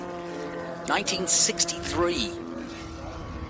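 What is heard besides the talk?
Cooper Monaco T61 race car with big engine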